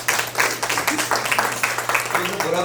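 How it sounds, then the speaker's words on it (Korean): Lecture audience giving a round of applause for a chairman, rhythmic clustered clapping in distinct pulses, fairly close, with some voices mixed in underneath. "우리 회장님한테 큰 박수 한번 드리세요."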